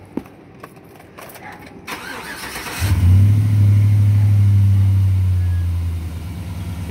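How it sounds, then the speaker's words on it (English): A 2004 Chevrolet Silverado with a 5.3L engine cranks over and catches, then settles into a loud steady idle carrying a long sustained whistle that fades slowly, after some earlier clicks and rattles. "You hear, ooh, that's what it does. That's that noise. Hear that long whistle."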